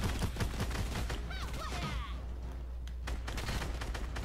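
Rapid bursts of video game gunfire crackle continuously through a busy, dense mix of game sounds, with a brief swooping effect in the middle.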